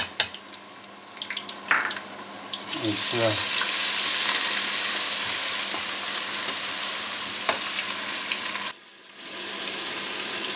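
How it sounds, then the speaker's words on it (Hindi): Ginger garlic paste fries with beef trotters in a pot, a loud steady sizzle that rises after a few clinks and stirring scrapes, then briefly drops out near the end; a voice speaks briefly. "अब हम इसमें अदरक और लहसुन का पेस्ट जो है ना वो ऐड कर दिया है"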